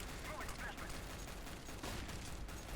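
In CS:GO, a player fires through a smoke grenade, producing a rapid rattle of gunfire that blends with a commentator talking over it.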